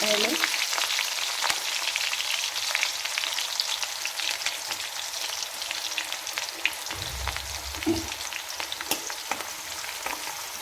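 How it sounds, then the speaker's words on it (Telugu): Sliced onions and green chillies frying in hot oil for tomato rice, a steady bright sizzle throughout with occasional scraping stirs and small pops, close and continuous. "ఉల్లిపాయలు, పచ్చిమిరపకాయలు కొంచెం రెడ్ అయ్యేదాకా వేయించుకోవాలి"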